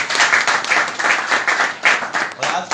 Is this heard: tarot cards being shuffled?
no